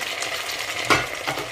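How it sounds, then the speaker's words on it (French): Chicken and onions sizzle and fry in a pot, with brief scraping stirs and a clink of a utensil against the pan. "notre poulet va se griller avec nos oignons comme ça."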